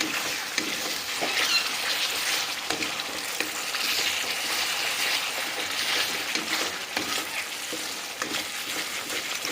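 Spice paste for Bengali prawn malai curry fries in oil in a pan, a steady close sizzle with bubbling and the scrape of repeated stirring running throughout at an even loudness.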